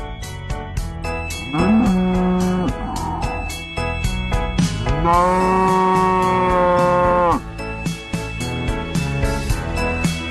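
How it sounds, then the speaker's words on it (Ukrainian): A cow moos twice, the second call long and drawn out, loud and close over a backing of music. "Корова."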